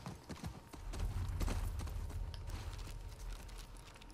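Horse hooves clip-clopping in The Last of Us Part II, a steady rhythmic trot with low rumbling game ambience underneath.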